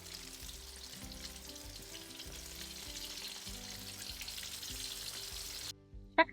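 Pork for sweet and sour pork deep-fries in hot oil at about 350 to 375 degrees, giving a soft, steady bubbling sizzle that runs for several seconds and then cuts off, with one brief clatter at the end.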